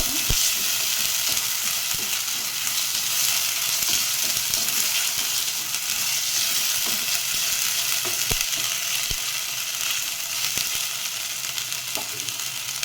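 Masala for chicken curry sizzles and fries steadily in a clay pot, a dense, continuous hiss close up, with occasional soft clicks from stirring and no voices.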